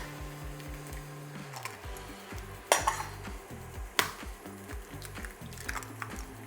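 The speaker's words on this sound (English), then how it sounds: "Bit of a whisk." Two eggs are whisked for a veggie Spanish omelette, with a soft, rhythmic scraping and a few sharp utensil clinks against the bowl, close up and without talk.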